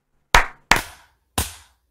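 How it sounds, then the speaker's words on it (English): Three sharp hand claps ring out close and loud against silence, the first two in quick succession and the third after a short pause, each decaying quickly. "Let's end this out with two claps."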